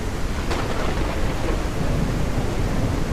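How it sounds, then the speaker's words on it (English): A crazy monsoon-like thunderstorm fills the room with dense, loud rain hiss and rumbling thunder, a broad unbroken roar with a sharper crack near the start. "That is a crazy storm."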